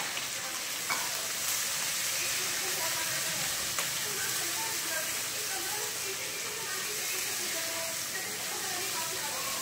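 Chopped capsicum and slit green chillies sizzle with lightly fried onions in a pan. A steady, close frying hiss carries throughout, with a few faint clicks from stirring.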